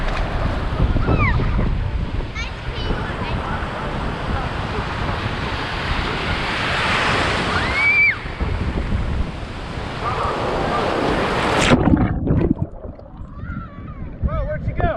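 Waves surging and breaking on a beach at South Padre Island, Texas, a steady broadband wash with wind buffeting the microphone, ending in a sharper crash near the close.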